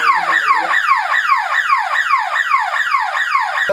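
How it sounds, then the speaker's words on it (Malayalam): A loud electronic smart home security alarm wails in rapid repeating downward sweeps, about two per second, sounding continuously and close by with no voices. "security alarm അടിക്കുന്നതാണ്"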